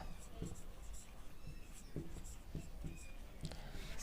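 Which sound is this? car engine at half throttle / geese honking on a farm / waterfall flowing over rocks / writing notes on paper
writing notes on paper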